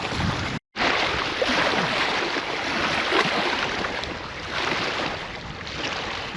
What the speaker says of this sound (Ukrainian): сильно вітер мішає забросу